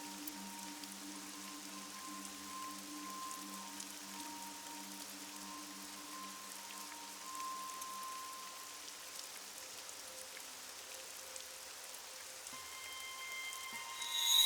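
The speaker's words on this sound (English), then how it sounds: "It's raining." Steady soft rain patter in a video game fills the scene, even and continuous, with a faint low tone humming underneath.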